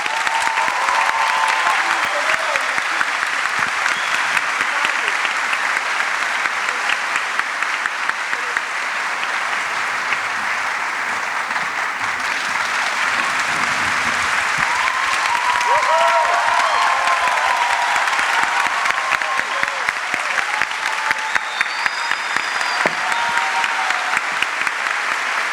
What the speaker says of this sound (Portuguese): Uma salva de palmas para Divaldo